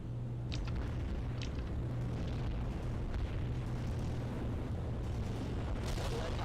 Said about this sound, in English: There's that heavy artillery barrage